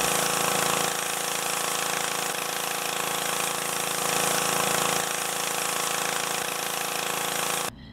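Troybilt pressure washer running with a turbo nozzle, a steady loud engine drone and continuous spray hiss holding for several seconds before suddenly dropping off.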